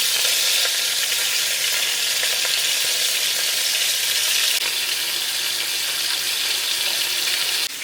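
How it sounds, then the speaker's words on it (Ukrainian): Loud, steady sizzling and crackling of pork ribs frying in hot fat, continuous hiss filling the whole stretch with no voices. "І поки реберця смажиться"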